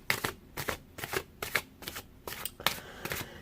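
Tarot cards being shuffled in quick bursts of riffling and slapping, close and clear, with no talking.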